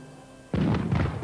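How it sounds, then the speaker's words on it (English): Ceremonial cannons fire in celebration at a grand royal meeting of kings in 1520: a sudden deep boom breaks into a rolling, sustained rumble of overlapping blasts, loud and close. "Cannons roared in celebration"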